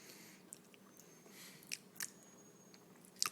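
A young child chews and bites on spicy salsa, giving a few soft, close crunchy bites and mouth noises over a quiet room, with louder crunches near the end.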